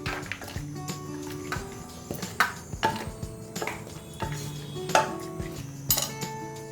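Sweet wheat-flour and jaggery biscuits tip into a ghee-greased metal plate, giving repeated close clinks and scraping knocks of a utensil against metal in an uneven rhythm, with no voices.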